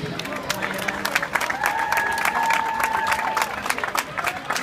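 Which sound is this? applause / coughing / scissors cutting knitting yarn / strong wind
applause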